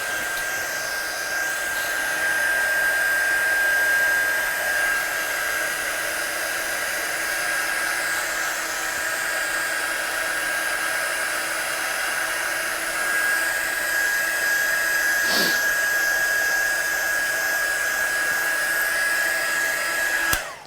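A heat tool blows continuously to dry a watercoloured, stamped Christmas card, a steady high-pitched whirring drone that holds for about twenty seconds and then cuts off abruptly.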